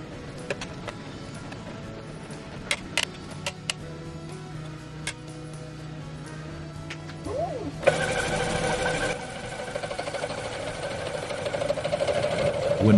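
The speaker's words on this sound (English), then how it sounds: "When machining starts, the tool first cuts through the hard mill scale on the surface, so the cutting sound gets a bit louder." A modified home-built DIY CNC router machines steel, its cutter first biting through hard mill scale on the surface; a steady mechanical whir with faint ticks gives way to a louder, brighter grinding cut partway through.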